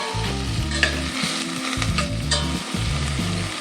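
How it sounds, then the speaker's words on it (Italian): Prawns sizzle and fry steadily in a hot pan, a constant crackling hiss with low stirring thumps and no voices. "Adesso le facciamo rosolare finché non cambiano il colore"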